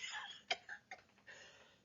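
A woman coughs in short, sharp bursts, a few separate close coughs with breathy pauses between them, fairly quiet overall.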